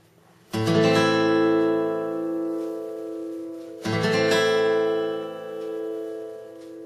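Two separate guitar chords are strummed, each ringing out and slowly decaying before the next, clear and close with no talking.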